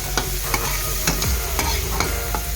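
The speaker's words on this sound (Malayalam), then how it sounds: "പച്ചമുളക് നീളത്തിൽ അരിഞ്ഞെടുത്തത് അതുകൂടി എടുത്ത് ചെറുതായി ഒന്ന് മൂപ്പിച്ചെടുക്കുക" Slit green chilies fry with onions in a pan, a steady crackling sizzle broken by several sharp stirring scrapes and knocks, close and alone.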